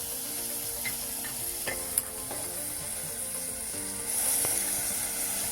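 Two chopped tomatoes sauté in a pan for a Kannur-style mackerel curry, a soft continuous sizzle with occasional stirring scrapes and faint clicks, growing a little louder toward the end.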